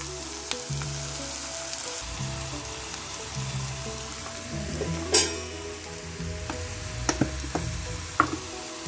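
Onions fry in oil in a pan for a Chilika crab curry, giving a continuous steady sizzle with a few sharp spoon clicks and scrapes. No one speaks.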